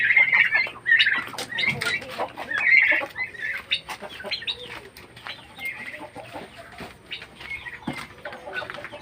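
A farmyard with turkey chicks and a single chicken mixed in among them, repeated close clucks and soft peeping calls in uneven bursts, with occasional scuffs and a wing flap.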